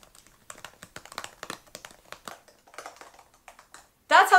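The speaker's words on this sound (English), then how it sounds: "That's how the keyboard sounds." Rapid, uneven clatter of a 2018 Apple MacBook Air keyboard being typed on up close, ending with a sudden louder rustling burst.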